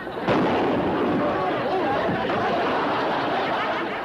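A single gunshot rings out in a 1960s TV sitcom scene set during a mock Civil War battle, a loud sharp crack near the start followed by a lingering rumble.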